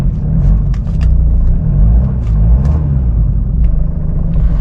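A Jeep Liberty KJ diesel engine runs on old fuel with a loud, steady low rumble and a slightly uneven beat, heard close and alone with no talking.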